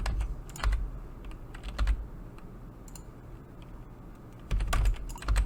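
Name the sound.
pressing computer keyboard keys in Blender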